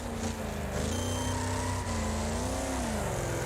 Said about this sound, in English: Oh, this vehicle sounds amazing though. The low rumble of the V8.